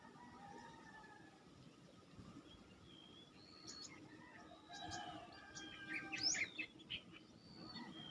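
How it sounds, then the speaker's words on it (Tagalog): Several birds chirp and call at a distance, brief tweets scattered over a quiet background that grows a little busier toward the end. "Nabubulabog pa tayo ng ibon."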